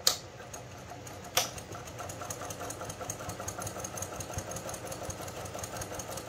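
A sewing machine stitches a cloth pad using a long stitch length, running in a fast, steady mechanical rattle after two sharp clicks at the start, close and alone.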